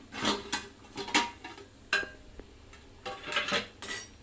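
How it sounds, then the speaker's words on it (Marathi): A metal lid comes off a pot on medium heat where chimkori vadi is steaming, giving a handful of faint clinks and scrapes of metal on cookware, quiet and close, with no voices. "तर मी आता इथं झाकण उघडून बघते"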